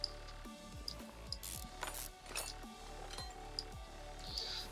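Wheel bolts being unscrewed in Car Mechanic Simulator 2021, a rapid series of ratcheting mechanical clicks and whirs in repeated short bursts, with faint clinks between them and no talking.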